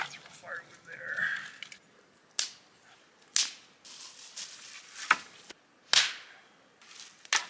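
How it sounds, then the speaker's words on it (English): Firewood is thrown down at a campsite, giving about six sharp, separate thuds and clacks spread across the stretch. A soft voice is heard near the start. "So, throw firewood there."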